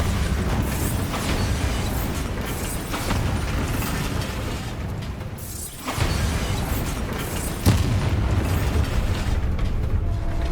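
In the Hogwarts Legacy video game, the Bombarda spell sets off booming blasts over rumbling, crumbling debris, with a sharp burst midway and another loud hit near the end.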